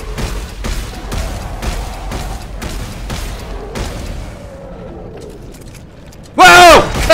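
Enemy gunfire in the video game Dead Space 3 arrives as a rapid series of sharp shots and impacts, loud and close, followed by a burst of harsh game noise near the end.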